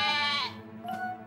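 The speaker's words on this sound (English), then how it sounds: "Sam did say something about runaway sheep." Cartoon sheep from a children's firefighter animation, a single bright, wavering bleat lasting about half a second, followed by a softer second call, loud and close over a faint background.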